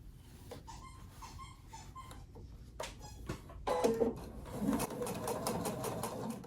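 A sewing machine stitching a seam on quilted fabric scraps, heard as faint, quiet stretches of stitching broken by short ticks and clicks, growing a little busier toward the end.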